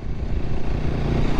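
A new motorcycle's engine runs steadily, a low, throaty rumble that stays even and close throughout the short stretch, with no voices over it.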